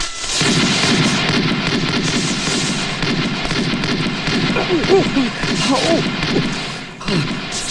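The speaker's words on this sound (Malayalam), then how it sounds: "ആരുടെ ഇപ്പൊ വെടിവെക്കാൻ പറഞ്ഞത്?" Rapid gunfire erupts in a Malayalam comedy film scene, a dense, sustained volley of loud cracks and bangs with a few fainter shots near the end.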